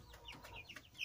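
Soft, quick clucks from a chicken eating from a perch, a few short chirpy notes in a row, faint and close.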